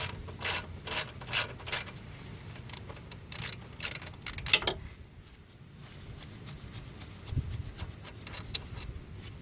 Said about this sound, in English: put the crescent wrench or your other wrench of that size on here to stop this from spinning while you turn the wrench on the other side for the bolt